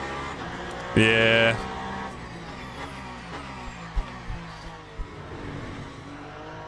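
LMP2 prototype race car engine in a sim racing game, a steady droning engine note with a short brighter burst near the start, then small bumps and rumbles underneath, with a brief spoken word.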